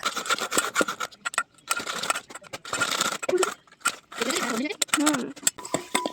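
Tamarind being rubbed and mashed by hand with grated bilati, giving repeated scraping, rasping strokes in bursts with short pauses, close and fairly loud, while a voice talks over it.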